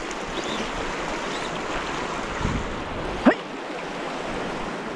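Fast-flowing river rushing steadily nearby during a fishing drift, a constant broadband wash of moving water with no talk, and one brief sharp squeak near the end.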